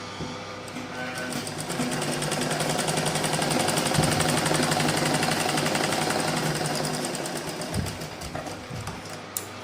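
An electric sewing machine runs continuously as it stitches blouse fabric, a loud, steady rattling whir up close that rises slightly and then eases before stopping.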